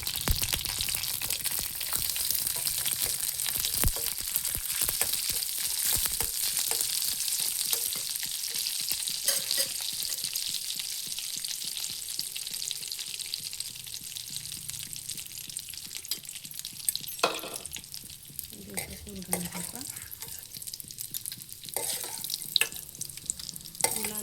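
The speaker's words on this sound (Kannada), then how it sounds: "ಈಗ ಡ್ರೈ ಫ್ರೂಟ್ ಹಾಕ್ತೀನಿ ತುಂಬ ಫ್ರೈ ಮಾಡ್ಕೊಬಾರ್ದು ಸ್ವಲ್ಪ" Dry fruits fry in a pan while beetroot halwa is being made, with a continuous soft sizzle and fine crackle plus a few scraping stirs toward the end.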